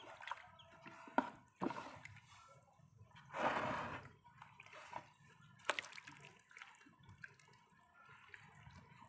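Red dye water is stirred around a submerged piece of cloth in a container, giving soft sloshing and dripping splashes at irregular moments, with one fuller swirl in the middle, faint and close with no talking.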